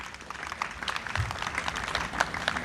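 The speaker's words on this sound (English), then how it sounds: "Let's clap for them." Audience applause at a grand durbar of chiefs and stakeholders in Kumasi, a steady wash of many hands clapping across the whole stretch, fairly distant and even, with no talk over it.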